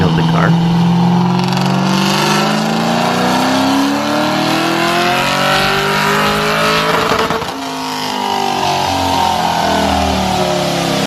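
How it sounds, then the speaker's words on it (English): A Procharged Mustang GT strains on a dyno, its engine note climbing steadily in pitch through a long, loud pull, then dropping and rising again in a second rev near the end. "After that, we dynoed the car."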